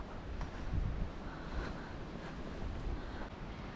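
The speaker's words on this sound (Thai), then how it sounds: "ทะเลวันนี้คลื่นแรงคลื่นสูงมาก" Strong, high ocean waves breaking off the coast of Madeira near Santana, a steady broad roar of surf mixed with wind buffeting the microphone, continuous and fairly loud with no voices.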